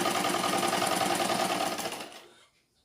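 A sewing machine runs steadily at close range, stitching the waist of a cotton petticoat, a dense continuous whir that stops and trails off near the end.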